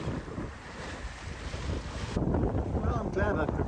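Strong squall wind buffets a sailboat on an open-ocean passage, with loud rushing wind noise across the microphone and water splashing against the hull, intensifying toward the end.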